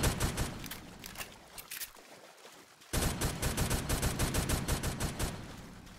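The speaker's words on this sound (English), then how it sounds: "Can I shoot our way out?" Rapid gunfire bursts in the Roblox game Brookhaven, loud and close, with a short lull before a dense run of shots resumes.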